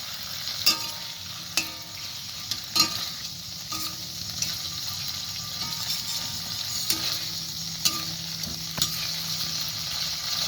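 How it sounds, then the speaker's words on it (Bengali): Meat stirred in hot oil in a pan, a steady broadband sizzle with repeated scraping strokes and occasional utensil clinks against the pan, close and continuous throughout. "এখন ভালোভাবে নেড়াচাড়া করে নেব।"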